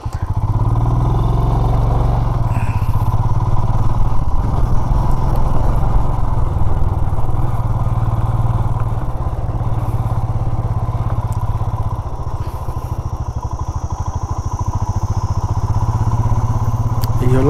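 A motorcycle rides slowly downhill on a mountain road in North Bengal, its engine rumbling steadily and loud up close throughout, with wind and road noise.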